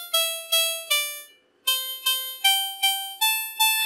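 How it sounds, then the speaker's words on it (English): Plucked harpsichord-like notes synthesized by an ESP32 microcontroller play a short melodic phrase, steady rhythmic attacks with a brief pause midway, clear and alone. "So as lovely as the harpsichord is, I'll just turn that down"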